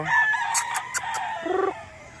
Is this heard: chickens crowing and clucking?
yes